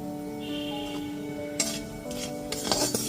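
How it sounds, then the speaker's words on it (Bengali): Black cumin seeds dropped into hot oil left from frying pointed gourd, giving a bursting sizzle that swells midway and again near the end, with a utensil clinking and stirring against the pan, no talking. "এবার ওই একই তেলের মধ্যে ফোড়নে দিয়ে দিচ্ছি"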